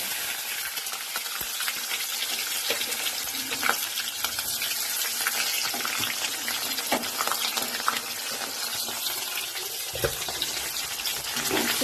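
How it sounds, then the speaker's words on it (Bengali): Sliced onions frying in a pan after tomato paste and a little sugar go in, giving a continuous soft sizzle with occasional stirring clicks and scrapes, close by and fairly quiet, with no talking. "পেঁয়াজগুলো এবার একটু ভাজা ভাজা করে নিই"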